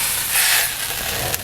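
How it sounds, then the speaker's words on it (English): A chuck eye steak seared quickly in a hot pan gives off a steady, close broadband sizzle and hiss, fairly loud and unbroken throughout. "What is this quick sear for?"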